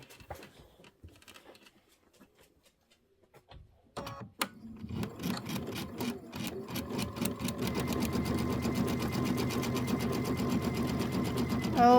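A sewing machine begins stitching a Kimberbell Hello Sunshine pieced quilt block with the needle down, at first quiet with a few soft handling sounds, then a rapid, even mechanical chatter that builds and runs steadily up close.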